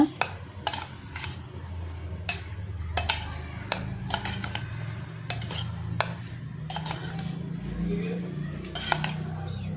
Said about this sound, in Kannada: ಈ ಎಲ್ಲ ಪದಾರ್ಥಗಳನ್ನು ಚೆನ್ನಾಗಿ ಮಿಕ್ಸ್ ಮಾಡ್ಕೊಳ್ಳೋಣ